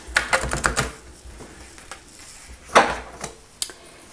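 An oracle card deck being shuffled by hand gives a quick series of light, dry card clicks and riffling taps, with short pauses between bursts and one louder flick midway.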